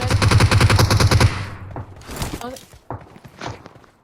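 Rapid automatic gunfire in PUBG Mobile, loud and close, bursts steadily for just over a second and then cuts off, leaving scattered thuds, footsteps and softer distant shots.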